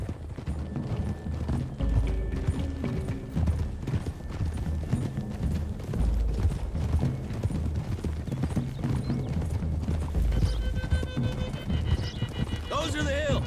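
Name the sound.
horses galloping in a video game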